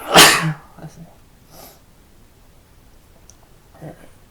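A single sharp, close sneeze bursts out at the start, followed by quiet breathing and faint clicks.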